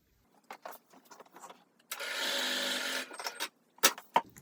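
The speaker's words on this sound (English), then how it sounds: "And I will sew up that side." A sewing machine stitches quilt pieces for a barn and farmhouse block, running in one steady burst of about a second and a half in the middle, with quiet fabric handling and small clicks before and after.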